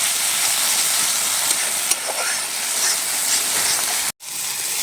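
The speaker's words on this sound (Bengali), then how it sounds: "মশলাটাকে ভালো করে তেল ছাড়া পর্যন্ত কষিয়ে নিতে হবে" Spice paste of green chilli, tomato, onion, ginger and garlic frying in oil for a village prawn curry, a steady close sizzling hiss that holds throughout and cuts out abruptly near the end.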